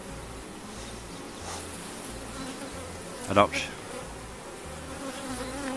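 Honey bees buzzing steadily inside an open hive at Boorowa Bees, a dense continuous drone with one brief louder swell as a bee passes close; a voice speaks a single word.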